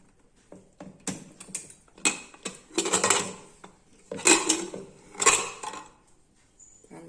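A pressure cooker being opened after cooking venpongal: a series of close metallic clinks and clatters from the lid and pot, irregular and separated by short quiet gaps.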